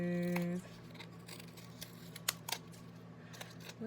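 Scissors trim the edges of a craft project in a few quick, crisp snips, close and fairly quiet, following a brief bit of talking at the start.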